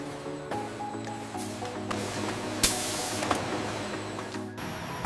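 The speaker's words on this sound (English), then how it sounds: "the line fills each one with fizzy Coke, screws on the cap, and tightens it to exactly 20 inch-pounds of torque" A modern Coca-Cola bottling line fills bottles with fizzy Coke and screws on the caps. A steady mechanical hiss and spray wash over a constant machine hum, broken by a few sharp clicks and bursts.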